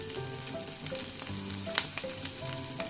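Chopped ginger, capsicum and green chillies frying in a pan for potato manchurian, a dense loud crackling sizzle that holds steady throughout with intermittent sharp pops and faint stirring.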